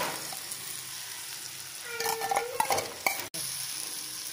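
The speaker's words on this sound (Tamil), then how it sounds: "வயல் நண்டையும் இதில் போட்டு நல்லா இந்த எண்ணெயில் லேசாக வதக்கி" Crushed field crabs tossed into hot oil with turmeric in a pan for crab rasam, a steady sizzle with a burst of stirring and clattering utensil scrapes midway, close and alone.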